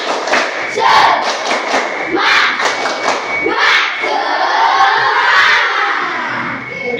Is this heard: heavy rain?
no